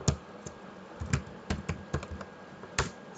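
A password typed on a computer keyboard, a run of irregular crisp key clicks, some in quick pairs, close to the listener over a faint hum with no talking.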